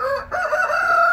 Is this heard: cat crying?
no